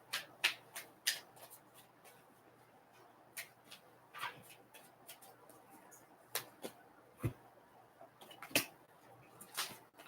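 Tarot cards are shuffled before another card is drawn, heard as sparse, sharp flicks and snaps, some in quick clusters and others spaced apart, in an otherwise silent room.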